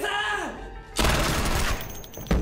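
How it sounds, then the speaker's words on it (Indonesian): A short, loud burst of rapid gunfire bursts in after a brief tonal film soundtrack passage in a scene from the film Alice in Borderland, followed by another sharp report near the end. "Akhirnya Fahri pun mati tertembak"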